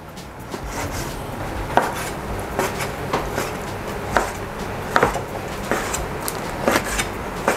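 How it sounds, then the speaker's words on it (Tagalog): A knife cuts raw salmon into small cubes on a cutting board, giving a steady series of crisp knocks and taps at an uneven pace, close and fairly clear over faint background noise. "So, iwain lang natin to ng maliliit na cubes."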